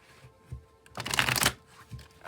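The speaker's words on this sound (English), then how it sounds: "I'll shuffle till the deck feels ready, then I'll cut, and we'll deal right off the top." A deck of tarot cards being shuffled: one close, crisp riffling burst of about half a second in the middle, with faint soft handling before and after and no talking.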